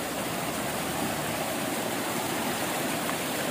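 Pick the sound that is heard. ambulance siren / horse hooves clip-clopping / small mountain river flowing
small mountain river flowing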